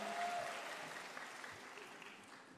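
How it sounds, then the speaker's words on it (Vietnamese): Audience applause for a contestant at the Miss Peace Vietnam 2022 pageant, a broad steady wash of clapping that starts strong and slowly fades, with no voices over it. "Chúng ta cùng vỗ tay cho Trần Thị Ban Mai."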